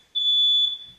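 A kitchen smoke alarm gives one shrill, piercing electronic tone, loud and close, holding for about half a second before cutting off.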